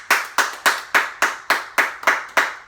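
An audience claps in a steady, evenly spaced rhythm, about nine sharp hand claps in under three seconds, close and fairly loud with no talking over them.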